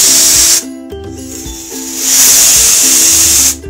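A pressure cooker cooking yellow basmati rice vents steam through its whistle in loud, close, hissing bursts. Two strong surges are broken by a sharp cutoff, and a low rattling pulse runs beneath the hiss.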